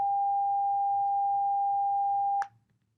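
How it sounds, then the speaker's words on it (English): A steady pure 800 hertz sine tone plays loud and unbroken for about two and a half seconds, then cuts off abruptly with a brief click, leaving only faint low room hum. "So let's again listen to the sine wave. We had the 400 hertz. This is the 800 hertz."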